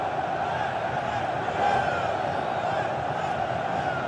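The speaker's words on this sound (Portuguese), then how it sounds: "E a torcida do Corinthians tem mais combustível para a festa." Corinthians supporters crowd a packed stadium during a 2015 Brasileirão match against São Paulo, their cheering and chanting a steady, dense roar that swells slightly midway and holds throughout.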